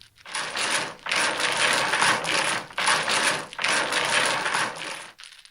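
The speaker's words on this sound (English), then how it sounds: "when you hear the rattling and the shuffling of the dominoes" Dominoes clatter and rattle continuously on a table in several rolling bursts with brief pauses, a busy clicking shuffle with no talking.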